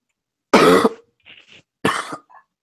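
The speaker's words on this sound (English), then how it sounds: "I'm coughing up a lot of phlegm." Two harsh, wet coughs bringing up phlegm, separated by a pause, with a faint throaty rasp between them, close and loud in a quiet room.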